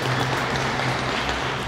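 Steady, dense applause of thanks from a gathering at a food and hygiene kit handover in Ecuador, a close, even wash of clapping hands with no pauses.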